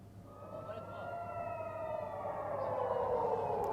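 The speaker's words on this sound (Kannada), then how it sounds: "ಸೈರನ್ ಕೇಳಿಸ್ತಾ ಇದೆ." An air raid siren sounds in Safed, Israel, its wail rising steadily in pitch and swelling louder over a few seconds, heard from a distance with no voices.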